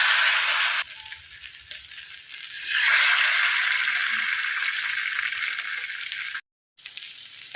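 Masala-coated fish laid on a hot tawa sizzles and fries loudly and steadily, with brief breaks and rattling as pieces are placed, heard close up.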